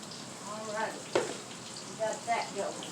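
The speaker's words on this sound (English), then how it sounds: "I'm going to dump my squash in this pan while I'm thinking about it." Squash frying in hot grease in a frying pan, a soft steady sizzle close by with a few scrapes and bumps as it is stirred.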